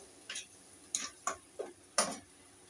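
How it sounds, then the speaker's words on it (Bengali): Ginger paste masala being stirred in a pan: five sharp, quiet scrapes and clicks of a spoon against the pan at irregular intervals over a faint sizzle. "আদা বাটা দিয়ে এবার আমি এইটা একটু মশলাটা নাড়বো।"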